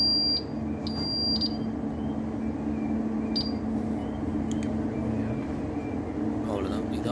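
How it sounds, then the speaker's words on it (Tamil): A smoke detector fire alarm undergoing a test gives short, high-pitched beeps, a few spaced chirps early on, over a steady low mechanical hum in an indoor setting. "இதுதான் ஸ்மோக் டிடெக்டர் வச்சு ஃபயர் அலாரம் டெஸ்டிங்."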